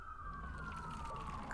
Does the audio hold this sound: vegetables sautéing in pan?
no